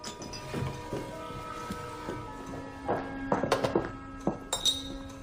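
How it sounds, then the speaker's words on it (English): Claret wine glasses give off several light clinks and pings, scattered at first and then clustered near the end, quiet and close over a soft room background. "Cameron, darling, why don't you pour Tilly a glass of claret?"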